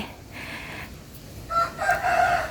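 Chickens at a farm coop beside a pig pen, heard while they are fed rice: soft clucking, then louder rooster-like crowing calls toward the end over a quiet, hissy outdoor background.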